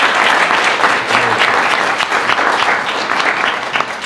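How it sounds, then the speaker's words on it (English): Close, loud applause from an audience at a Bitcoin talk, a dense burst of clapping that carries on for a few seconds and starts to fade at the end. "So give a round of applause to the team at River for putting this on."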